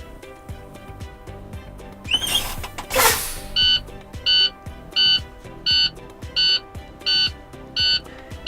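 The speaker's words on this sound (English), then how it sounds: "As you can see, our alarm turned on and our light." A truck's low air pressure warning alarm beeps in a steady rhythmic series of short electronic tones after the brakes are pumped, preceded by a couple of sharp clicks and hisses; no talking.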